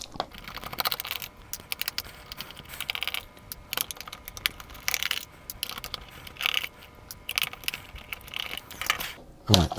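Screws being backed out of a Micro Genius IQ-1000 Famiclone controller, heard as fine ratcheting and clicking from close by, a busy run of small mechanical ticks with light plastic knocks and no talk.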